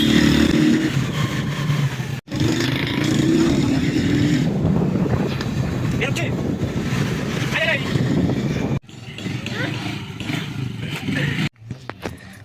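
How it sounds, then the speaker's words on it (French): Motorcycle taxis climbing uphill into a Medellín barrio, engines droning under heavy wind buffeting on the microphone, loud and close, with brief cutouts and a speaking voice. "On prend des motos pour monter dans le barrio"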